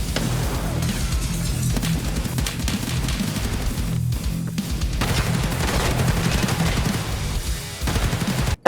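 Gunfire in the gritty hardcore first-person shooter Escape from Tarkov, by Battlestate Games: loud, dense automatic fire and fusillades nearly nonstop, with a few short breaks and an abrupt cut at the end.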